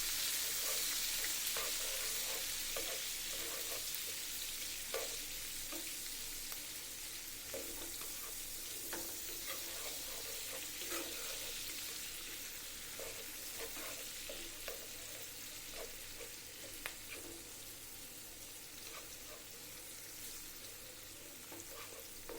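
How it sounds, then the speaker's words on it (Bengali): Onions and green chillies frying in oil for a tomato and rupchanda fish curry, a steady close sizzle with crackling pops and occasional stirring scrapes, no talking. "আমি একই তেলে পেঁয়াজ আর কাঁচামরিচ দিয়ে দিচ্ছি।"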